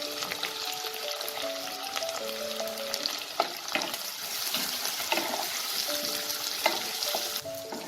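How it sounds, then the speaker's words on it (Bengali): Three medium chopped onions frying in a pan after cumin seeds, a steady soft sizzle with occasional stirring clicks and scrapes, quiet and close, with faint background music tones. "পেঁয়াজটা আমার হালকা হালকা ভাজা হয়ে গেছে"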